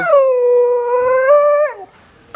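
A dog lets out a single long, wavering whimpering howl that lasts almost two seconds, loud and close. It trails off into near silence.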